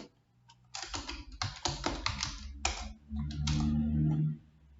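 Keyboard typing while entering code in a programming lesson: bursts of close, rapid key clicks with brief pauses, then a short stretch of steady low hum.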